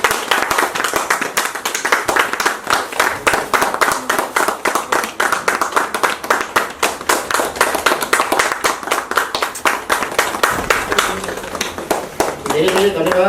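An audience claps rhythmically in unison at a song collection launch ceremony, a loud, steady beat of synchronized hand claps that thins toward the end as someone begins to speak.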